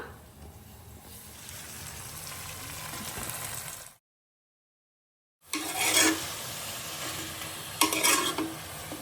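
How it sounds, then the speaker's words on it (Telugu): Gongura leaves frying in hot oil with a little turmeric for gongura chicken, a continuous sizzle and stirring that drops out for a moment and then returns louder with scraping bursts. "ఇప్పుడు మనం మంచిగా కడిగి పెట్టుకున్న గోంగూర వేసుకుందాం"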